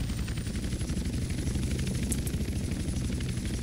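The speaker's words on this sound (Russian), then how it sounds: "Я вечно забываю, что этот вертолет по так по-дурацкому разгоняется." Helicopter engine in GTA San Andreas: a loud, continuous rotor chop with a rapid pulsing low throb and a thin high whine held steady above it.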